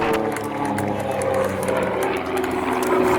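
An RV6 sport-class race plane with a 540 engine roars past during an air race. Its propeller and engine drone hold steady and loud for the whole moment, with faint crowd or commentary sound beneath.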